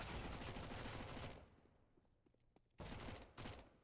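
Gunshots on the Mirage map in CS:GO: a loud stretch of rapid automatic fire, a quieter pause with a few faint clicks, then more bursts of close, heavy shooting.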